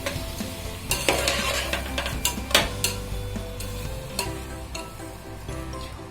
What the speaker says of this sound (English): Now I'm going to saute my rice in the oil and masala.